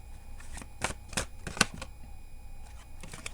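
Tarot cards being shuffled by hand, a series of sharp riffling bursts and soft slaps spaced irregularly over a few seconds, close and fairly crisp against a quiet room.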